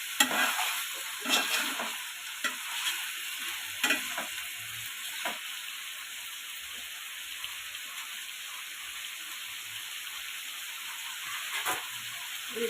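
Chicken pieces frying in oil without water, stirred now and then, a steady close hiss with intermittent scraping strokes of a spatula early on, settling into a quieter constant sizzle.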